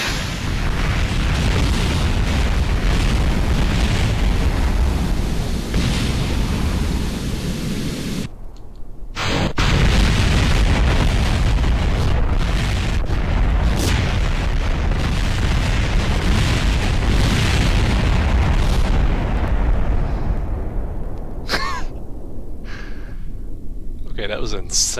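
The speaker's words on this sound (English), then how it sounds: "I just want to see how much of a spread we can get with the rockets shooting off all at once." Rockets launching together and blowing up in Kerbal Space Program, a loud continuous roar of thrust and blasts filling the whole stretch, briefly cutting out near the middle, with voices talking over it.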